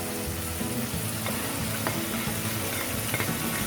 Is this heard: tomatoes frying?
yes